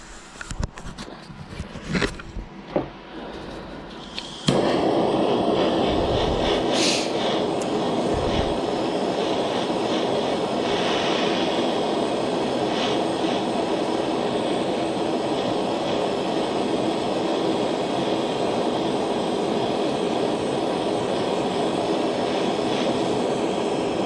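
A torch ignites after a few clicks and light handling noises, then roars steadily and close for the rest, heating metal to solder a ring.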